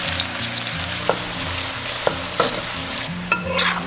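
Red shallots slowly fry in melted lard over medium-low heat in the traditional Quanzhou style, giving a steady close sizzle broken by a few sharp clicks of a stirring spatula against the wok. No voices.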